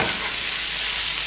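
Onion fries in a pan for a lo mein noodle dish, a steady close hiss and sizzle with no talk over it.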